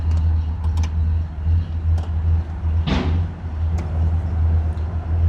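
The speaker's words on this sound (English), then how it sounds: "Engine sounding really good." A 1968 Ford Galaxie XL GT convertible with a 428 Cobra Jet V8 and 4-speed manual idles steadily nearby, a deep even rumble with a brief louder swell midway, no voices.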